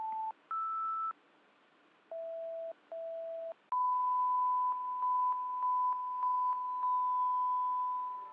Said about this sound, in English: now complete with surround sound test tones